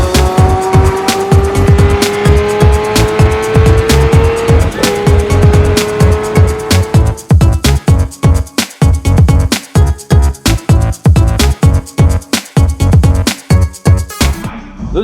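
A rally sports car drives hard with its tires squealing. A loud, close engine roars steadily while high screeching tire squeals ride on top, followed by a run of rapid rhythmic pulses.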